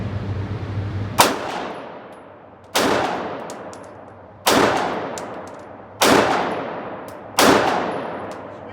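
A handgun fires five loud single shots one-handed, each a sharp crack with a ringing tail, evenly spaced about one and a half seconds apart, with nobody speaking.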